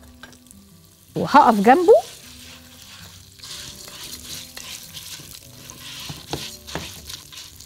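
Orzo pasta is fried in corn oil while being stirred, giving a soft, close crackle and scraping beneath a voice, with one brief loud burst near the start.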